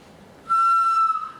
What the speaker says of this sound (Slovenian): se igra tako kot makedonski ali bulgarski kaval ali turški nej